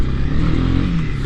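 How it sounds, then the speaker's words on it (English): Honda CB300R motorcycle engine pulling steadily in sixth gear uphill at low speed, a loud close continuous drone with strong airbox induction growl and no speech. "I really like the induction sound that's coming from the airbox and the engine"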